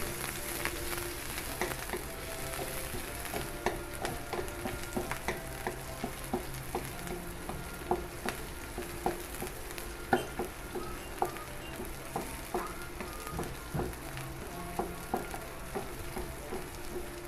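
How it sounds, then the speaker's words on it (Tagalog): Onions fry with corned beef in a pan, giving a steady, soft sizzle with scattered small pops and occasional stirring ticks, heard close and fairly quiet. "Then, lalagay na natin ang sibuyas. Lutuin muna ang sibuyas."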